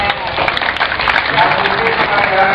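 Audience applause at a Merpati Putih martial arts demonstration, a steady dense wash of clapping sustained throughout at close, loud level.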